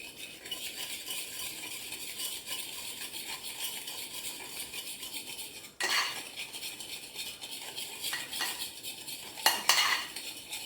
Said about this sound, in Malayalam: ഇനി ഇത് നന്നായിട്ടൊന്ന് മിക്സ് ചെയ്യുക